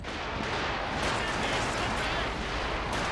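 Artillery barrage in the World War II strategy game Company of Heroes 2, a dense, continuous wall of loud blasts and rumbling impacts with no break over the whole stretch.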